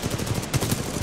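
Rapid automatic gunfire from the video game Titanfall 2 on PS4, a dense continuous rattle of shots with rhythmic bursts, loud and close throughout.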